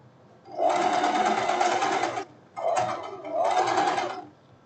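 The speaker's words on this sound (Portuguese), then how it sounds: "E a gente tá aqui costurando aquele acabamento que eu falei do final da manga" A sewing machine stitches a sleeve hem finish on crepe fabric in two close, loud runs of rapid whirring, with a short pause between them and no voices.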